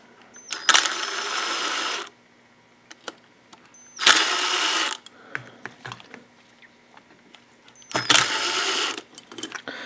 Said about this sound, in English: So I take the bowl nuts off here.